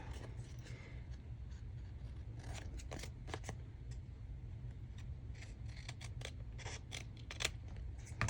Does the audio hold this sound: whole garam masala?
no